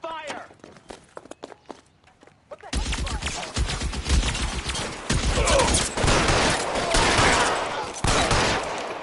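Heavy video-game gunfire from a police shootout in L.A. Noire, a dense sustained barrage of shots starting abruptly after a few scattered footsteps and continuing loud and close to the end.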